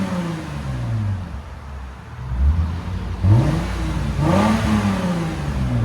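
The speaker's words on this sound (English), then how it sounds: "This is with the valves closed, guys, on the Valvetronics IS 250 all-wheel drive." A 2014 Lexus IS 250 all-wheel drive with a 2.5-liter engine and Valvetronic mufflers held closed revs in a few rising pulls close by, with a steady idle rumble between them.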